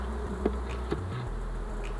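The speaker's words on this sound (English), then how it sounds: "There's a lot more bees in here." Bees buzz steadily and close around a hive, a dense droning hum with a few louder passes.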